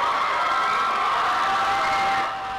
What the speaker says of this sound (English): We saw plenty of cheering and hugging at a watch party for the Vote No campaign as the results came in Tuesday night.